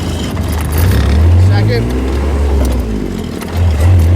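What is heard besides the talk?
diesel golf cart engine while shifting gears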